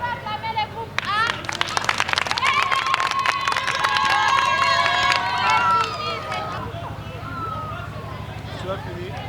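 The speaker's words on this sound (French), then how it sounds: "Est-ce qu'on peut acclamer les groupes A?" An audience claps and cheers for a group of performing children, a burst of dense clapping with shouts that swells, then tapers off into scattered claps and crowd murmur.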